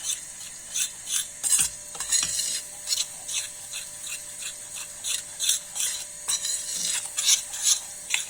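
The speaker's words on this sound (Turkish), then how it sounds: "Tereyağıyla birlikte mis gibi kavrulacak." Corn flour being roasted and stirred in butter: repeated scraping, rasping strokes of a utensil across the pan in an uneven rhythm, close and fairly quiet, with faint sizzle between strokes.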